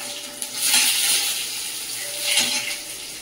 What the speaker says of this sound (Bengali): সামান্য জল দিয়ে দেবো।